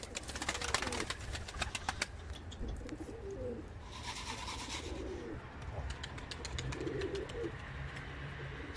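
Ankara Bozkırlı pigeons flying and cooing at a pigeon keeper's loft, soft repeated coos and bird calls amid faint background noise and an engine hum, with people talking nearby.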